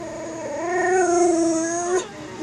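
A dog cries out in a long, sustained, wavering howl from another room indoors, loud and steady for about two seconds before breaking off abruptly.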